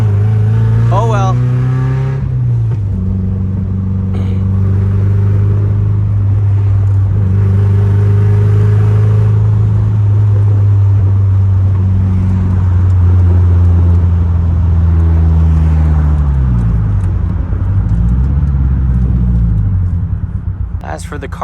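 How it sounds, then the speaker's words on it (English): Car exhaust droning loud and close, holding a steady low rumble then rising and dipping through a couple of revs near the end, with someone talking over it. "As for the car's sounds, honestly, this thing sounds bad."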